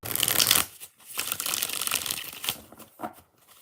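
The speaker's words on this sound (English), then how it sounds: "We're going to shuffle more times, LZ. We want to shuffle good." Tarot cards are shuffled by hand in quick bursts of papery riffling and rustling, close and crisp, broken by brief pauses between passes.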